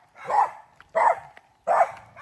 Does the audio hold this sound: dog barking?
yes